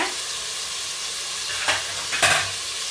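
Ginger garlic paste and tomato sizzling in a pan for Chettinad chicken biryani, a continuous close hiss with a couple of sharper scraping stirs near the end.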